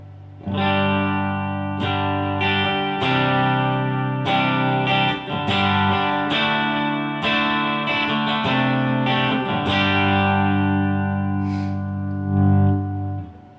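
Electric guitar played through a Joyo American Fender-style amp-in-a-box pedal, strummed chords ringing out with mild breakup and sustained harmonics, loud and close with no talking.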